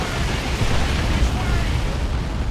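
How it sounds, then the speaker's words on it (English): Basilisk artillery barrage in a tabletop-style strategy video game: a dense, continuous rumble of explosions fills the whole stretch, loud and steady without clear gaps. "A Basilisk barrage."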